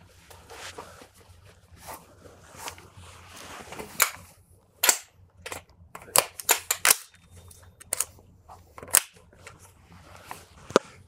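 Sharp, sparse gunshots at a shooting training range, single reports spaced irregularly across the stretch with some closer together, fairly near and loud over faint background noise.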